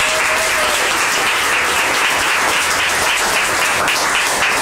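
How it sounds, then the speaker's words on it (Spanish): Loud, steady audience applause for the speaker Anita at a lecture fills the whole stretch, a thick continuous wash of many hands clapping with no talk. "Le quiero pedir otro fuertísimo aplauso para Anita"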